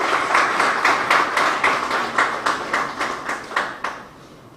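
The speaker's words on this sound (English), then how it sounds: "Please, another round of applause for Comrade." A small crowd claps for a speaker at a live event, a burst of rhythmic applause that thins into scattered claps and fades out.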